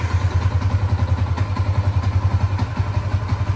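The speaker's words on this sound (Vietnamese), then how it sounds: "Bình thường mình sẽ bấm nút đề nổ máy." A Yamaha Exciter 150 motorcycle engine runs at a steady, close idle, with a deep throbbing pulse and a light mechanical clatter and no talking.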